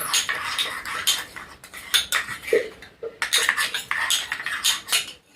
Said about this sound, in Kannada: ಇದನ್ನು ಮಿಕ್ಸ್ ಮಾಡಿ ನೀಟಾಗಿ ಮಿಕ್ಸ್ ಮಾಡ್ತಾ ಬನ್ನಿ